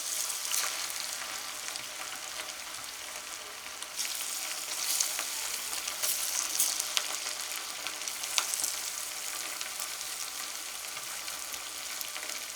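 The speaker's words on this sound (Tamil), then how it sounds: "ஸோ அப்படியே வந்துட்டு நம்ம கொஞ்சம் கொஞ்சமாக அப்படியே போட்டு நம்ம பொரிச்சு அள்ளிடுவோம்." Cheppankizhangu (taro root) pieces frying in hot oil, a steady loud sizzle and crackle with scattered sharp pops, continuous and close, with no talk.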